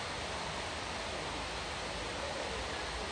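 Na Mueang waterfall on Koh Samui, a steady, even rush of falling water with no breaks, filling the scene at moderate level with no voices.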